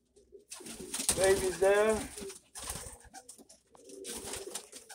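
Doves in a white dove release loft give soft, rolling coos close by, with someone talking briefly over and between the calls.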